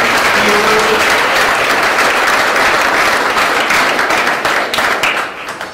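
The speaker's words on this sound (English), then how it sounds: "Round of applause for them" Audience applause fills an award ceremony for a history award, a dense, steady wash of clapping at full volume that tapers slightly near the end.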